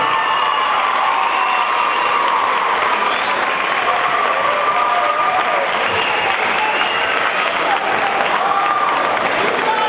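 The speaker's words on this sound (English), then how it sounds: "Let's give everyone one more big round of applause." A crowd in a high school gym before a varsity basketball game gives loud sustained applause, a dense continuous roar of clapping mixed with cheers and scattered shouts, holding level for ten seconds.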